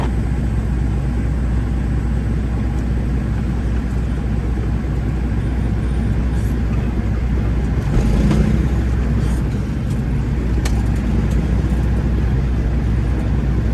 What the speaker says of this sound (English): Keep this old truck rolling.